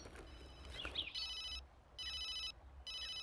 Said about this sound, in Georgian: აი, კინოში ესე დროს ყოველთვის ტელეფონი რეკავს.